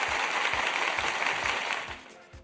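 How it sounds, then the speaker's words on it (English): A crowd gives a round of applause, a steady dense wash of clapping that tapers off toward the end, with no clear speech over it. "That deserves a round of applause right there for Mrs."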